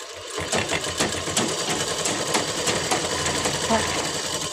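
Sewing machine stitching a farshi salwar with fine, small stitches, a steady fast mechanical whir running throughout at close range with voices talking underneath.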